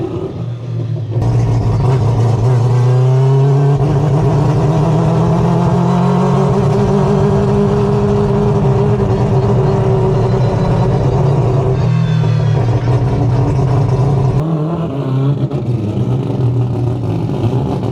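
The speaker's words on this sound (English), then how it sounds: "I hope this turbo just sounds sick right now." An all-wheel-drive turbocharged four-rotor rotary engine runs on a dyno, a loud sustained roar with rising and falling pitch through a long pull, dropping briefly near the end before resuming, no voices.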